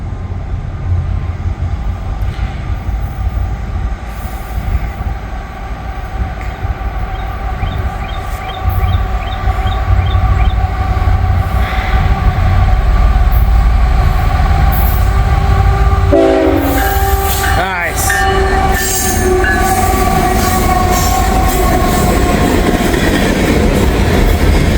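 A freight train with rival-railroad locomotives rolls past on the railway, loud and steady with a rumbling roar of wagons, brief horn blasts and clattering, squealing wheels toward the end, with no voices.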